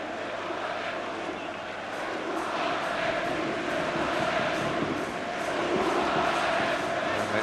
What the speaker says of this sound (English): it's a Cantona-esque cry for Ed de Goey from the crowd